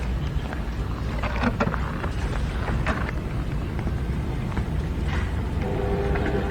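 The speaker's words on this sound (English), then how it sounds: "Let's start to run the boat in the water." A remote-control fishing bait boat runs on the water, giving a steady, close, broadband rush of water churning and wind buffeting the microphone, with no voices.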